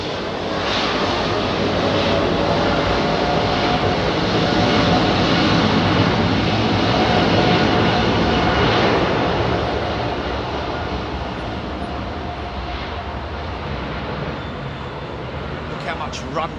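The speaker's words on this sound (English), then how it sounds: "787-9. Let's see. Rolling it. It's ready to go. Clear takeoff. 27 right." A British Airways Boeing 787-9 rolls for takeoff on runway 27R at London Heathrow, a loud sustained jet roar building and then slowly receding, with a voice speaking over it.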